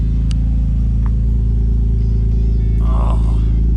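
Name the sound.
Nissan RB26 engine running in a 300ZX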